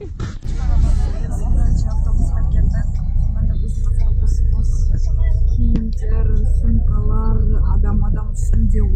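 Steady low engine rumble inside a city bus on its way to Gorky Park, loud and continuous, with passengers chattering throughout.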